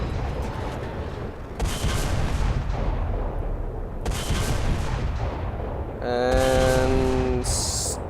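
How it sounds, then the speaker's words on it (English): A dual light cannon turret fires on a ship in a video game, giving repeated booming cannon blasts in clustered bursts with pauses between them. A sharp metallic ringing tone comes in near the end. "So this here is the first turret. It is a dual light cannon turret."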